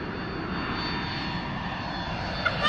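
An airplane drones overhead, a steady engine roar that holds level throughout at moderate volume, with no voices.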